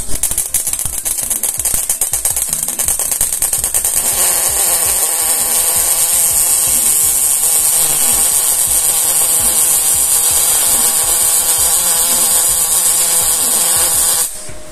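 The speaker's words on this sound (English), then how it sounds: "starting was difficult, but once it started, it welded okay" A Stahlwerk MIG 200 ST welder lays a bead after a hard start, producing a loud, unbroken crackling buzz for about fourteen seconds before cutting off abruptly.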